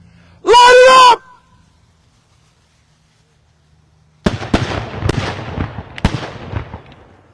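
Cherryville New Year shooters firing at a Friday night football pep rally: a shout rings out first, then after a pause a sharp volley of loud bangs and pops with crackling echoes follows.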